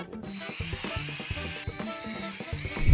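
A Parkside cordless drill bores with a larger drill bit, a strained whining motor pulsing in uneven bursts as the bit chews through material, close up, ending in a louder burst.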